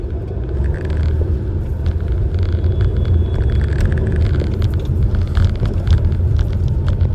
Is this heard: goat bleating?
no